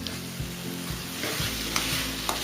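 Carrot halwa sizzles and fries steadily in a pan as sugar goes in, with a few soft stirring scrapes and clinks over a continuous hiss.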